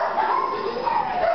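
A two-year-old neutered male Lab at a Van Nuys animal shelter whines and yips in a thin, wavering voice, a short continuous whimpering close by with kennel ambience behind.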